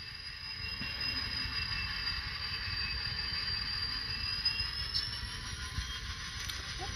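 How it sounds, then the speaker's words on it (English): A Kato model train engine runs steadily over turnouts, giving a continuous smooth hum and rolling rumble with faint high whine and a couple of light clicks. "That engine is going through just as smooth as butter."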